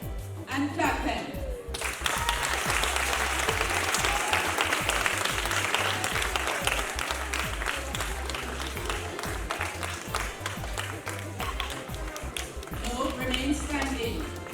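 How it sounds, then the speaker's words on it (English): Graduating primary school students clap for their parents at a graduation ceremony, a dense, steady wash of applause that fills the room from start to finish, with voices mixed in beneath it. "Turn around, wave, and clap them."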